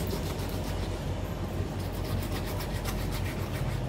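A knife saws back and forth through a sinew on raw chicken, a steady close rubbing rasp that continues without a break.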